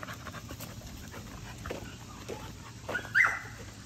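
A mother dog at a kennel pants and whimpers near the listener, breaking into a short yip or bark toward the end over outdoor background noise.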